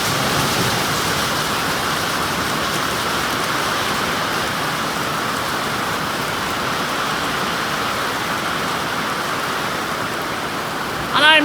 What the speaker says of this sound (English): Rain and more rain.